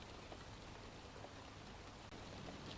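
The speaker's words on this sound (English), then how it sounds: "It's a pretty steady, constant rain that's just falling" Steady, constant rain falls at an even pace, a soft continuous hiss with scattered drop patter, fairly faint and unchanging, with no voices.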